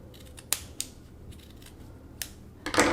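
Scissors snip slits through a folded cotton sheet, a few sharp separate cuts over a low room hum, with a louder crunch of the blades at the end.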